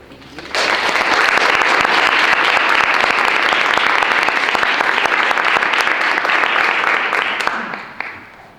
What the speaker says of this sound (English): One more round of applause for Sophia